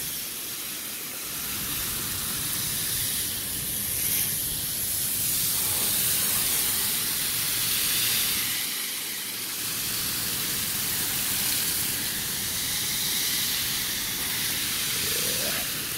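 A steady, loud hiss of chemical cleaner sprayed onto a Carrier package unit air conditioner coil runs throughout, continuous and close, with faint clatter underneath and no voices.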